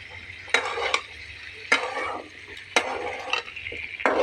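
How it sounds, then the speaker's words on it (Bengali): Potatoes stir-fried with spices in a pan, with a spatula scraping and stirring in repeated bursts over a steady low sizzle, close and fairly loud. "মশলাটা দিয়ে ভালো করে কষিয়ে নেব।"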